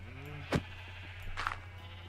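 A Minecraft sheep gives a short bleat, then another faint bleat follows about a second later over a steady low hum.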